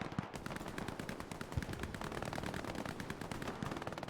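Machine gun fire crackles in an 18-versus-18 playoff match of an online shooter game, with continuous rapid bursts and scattered shots layered thickly throughout, at moderate distance and without pause.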